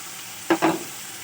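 Poppy seed paste going into a hot pan, making two quick close sizzling bursts that quickly settle back into quiet.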